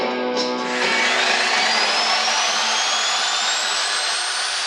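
Steady, loud whine of a power tool grinding or drilling to widen a bolt hole in a Honda Transalp motorcycle chain guard, a continuous rising tone with no talk.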